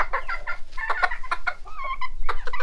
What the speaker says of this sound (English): He's such a pretty rooster.